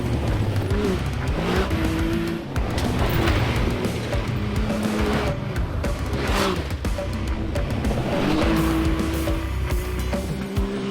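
A 2024 Can-Am Maverick X3 DS Turbo side-by-side drives hard, its engine revving up and down in repeated surges with loud, continuous motor noise throughout.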